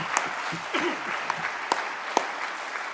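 Applause from a party conference audience: a thin, steady patter of clapping with a few sharper individual claps standing out, moderately quiet and somewhat distant.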